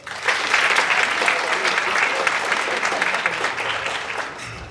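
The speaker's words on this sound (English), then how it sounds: "let's just take a moment and clap it up for that." Audience applause at a motivational success talk, a dense, steady wash of many hands clapping close and loud for nearly five seconds, easing slightly at the end.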